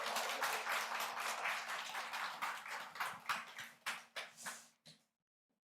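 A church audience applauds as a woman comes forward at a Sunday afternoon service, the dense clapping loud at first, then thinning into scattered claps that fade out before the end.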